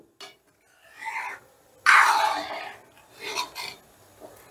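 Dal with tempering stirred in a cooking pot, giving a few short scraping and rubbing strokes of a spoon against the pot, one louder sweep in the middle, with quiet gaps between.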